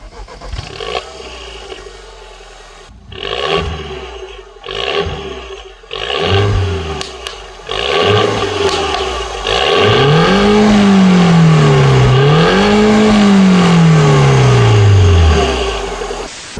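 A Mini Cooper S Clubman's four-cylinder engine revs up and down several times, then climbs in two long rising-and-falling sweeps, close and loud with a raspy exhaust note.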